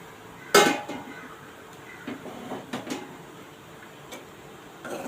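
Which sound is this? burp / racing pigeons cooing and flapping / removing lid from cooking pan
removing lid from cooking pan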